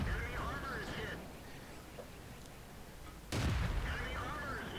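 A tank gun fires an APCR shell in a video game, one sudden loud boom partway through, heard over ongoing talk and game background noise.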